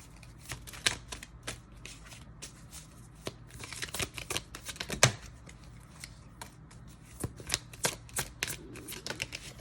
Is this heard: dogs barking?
no